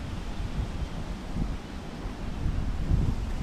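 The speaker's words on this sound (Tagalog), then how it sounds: "Mahangin na." Steady outdoor wind buffeting a microphone, a continuous low rumble with gusts swelling louder toward the end, no voices.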